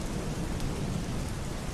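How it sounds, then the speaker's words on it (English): Heavy rain pours steadily in a dense, unbroken wash, with low thunder rumbling beneath it throughout a stormy night, and no voices. "As the storm drummed against his windows and thunder rattled the glass that night"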